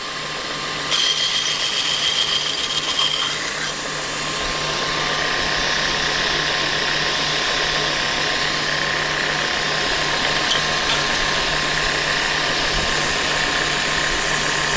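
A belt grinder fitted with a hollow grind attachment runs with a steady motor whine and a continuous abrasive hiss as a blade meets the belt, loud and sustained for about fifteen seconds.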